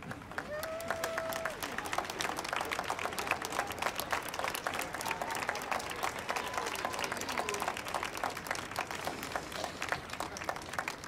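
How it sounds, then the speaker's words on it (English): Audience applause fills a hall at a Christmas concert by a symphonic wind ensemble, a steady, dense clapping that holds evenly for about eleven seconds with a brief tone near the start. "Thank you for your applause."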